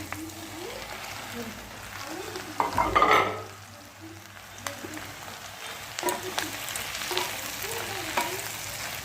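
Torn chapati pieces stir-fry in oil with ghee and curry leaves, giving a close sizzle with scraping stirs and one louder clatter near the start. Faint background voices are heard.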